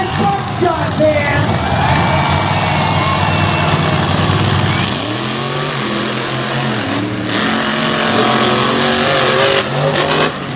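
Monster trucks with Chevy Silverado bodies race to the finish line at Lake Erie Speedway, engines roaring loud and close with rising and falling revs, overlaid by an announcer's voice and crowd noise.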